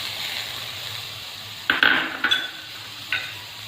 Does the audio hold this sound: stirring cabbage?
yes